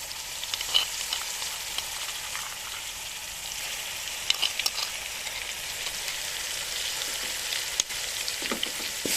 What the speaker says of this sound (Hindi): अदरक लहसुन को थोड़ा सा भून लेंगे।